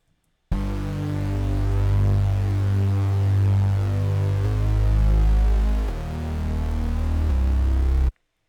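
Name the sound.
bass line in a beat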